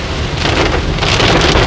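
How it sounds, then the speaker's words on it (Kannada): Heavy monsoon rain pours down at Yellapur in the Western Ghats, a loud, dense, continuous roar of downpour close by with no voices. "ಮಳೆ ನೋಡಿ ಯಲ್ಲಾಪುರದಲ್ಲಿ ಯಾವ ತರ ಸುರಿತಾ ಇದೆ"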